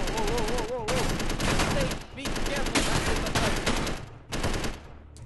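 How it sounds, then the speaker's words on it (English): Gunfire in the Space Engineers video game rattles out in loud, dense, sustained bursts of rapid shots, with a voice faintly under the barrage. "Because also something they did with guns, they've changed the sound a bit."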